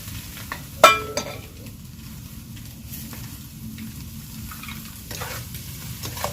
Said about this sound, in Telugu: నూడిల్స్ అయితే వేసేస్తున్నాను